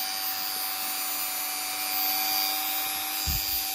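A MacAllister MSRT130 multifunction rotary tool running at its lowest speed setting, a steady high-pitched whine with a constant airy hiss throughout, close and even, with a brief low thump near the end.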